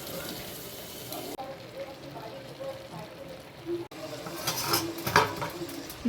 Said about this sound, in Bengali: চিকেনগুলো দিয়ে মশলার সাথে ভালো করে মিশিয়ে নেব দিয়ে এইভাবে কিছুক্ষণ কষাবো